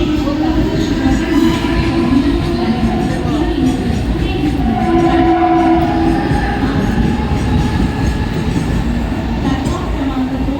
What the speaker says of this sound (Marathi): प्लॅटफॉर्म क्रमांक 2 वर आलेली लोकल 6 वाजून 51 मिनिटांची मुंबई छत्रपती शिवाजी महाराज टर्मिनसला जाणारी धीमी लोकल आहे।